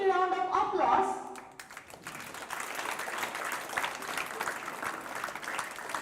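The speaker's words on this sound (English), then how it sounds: "Let's give them a big round of applause." Applause from the audience after a student dance performance at a school Independence Day celebration, a crowd clapping steadily after music fades out in the first seconds.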